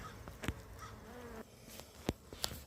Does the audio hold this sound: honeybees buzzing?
yes